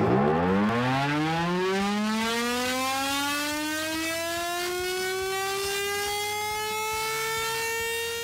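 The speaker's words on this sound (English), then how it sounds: "bought an air raid siren in an auction" A loud air raid siren winds up from a low growl to a sustained, steady wail that holds for several seconds, with a faint engine rumble underneath.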